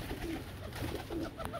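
Pigeons coo softly and faintly in a few low, rolling calls, close by but quiet against a steady background hum.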